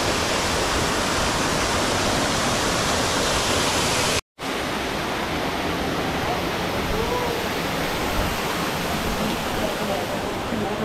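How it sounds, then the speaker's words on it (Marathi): Thoseghar waterfall near Satara roars in a dense, steady wash of falling water, loud and unbroken except for a momentary dropout. "पाणी वाहतंय, 12 महिने पाणी वाहतं."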